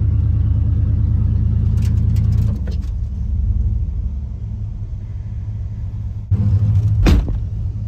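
A car's wheels spinning in deep mud, a loud, steady engine rumble that drops and surges again, with brief rattling bursts over the constant low drone.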